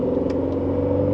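An Aston Martin DB12 Volante 2025 convertible's twin-turbo engine switched into Sport Plus mode gives a steady, loud, deep rumble with a few light clicks over the top and no talking.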